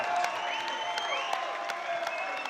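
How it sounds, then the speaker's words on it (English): A crowd at an MMA event applauding steadily, dense clapping with a few cheers and whistles rising over it in a large room. "a huge round of applause for an outstanding opponent in Kostadin Enev."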